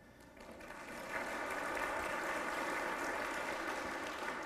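A church congregation breaks into applause that swells after a second and holds as a steady, moderately distant wash of clapping.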